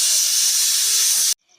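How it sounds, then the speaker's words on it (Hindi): A pressure cooker cooking bottle gourd curry releases a loud, steady steam hiss for just over a second, then cuts off abruptly to near silence. "तो इस कुकर में बन रही है आज लौकी की सब्जी।"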